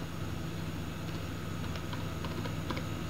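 Keys clatter in soft, irregular bursts on a computer keyboard during a Bootstrap coding lecture, faint against a steady low hum, with no voices.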